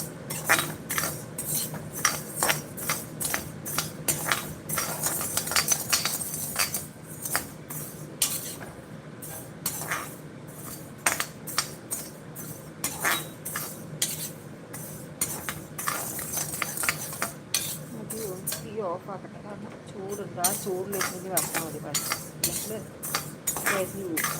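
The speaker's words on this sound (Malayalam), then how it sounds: "പിന്നെ ഉഴുന്നപ്പരിപ്പ് ഇത് അരി അത് ഇതുപോലെ അരിയിലേക്ക് വറുക്കണ പോലെ വറുത്തെടുക്കുക" Chana dal, urad dal and rice dry-roasting in a pan for idli podi, with steady metallic scraping and clinking of a utensil stirring the grains, continuous and close throughout.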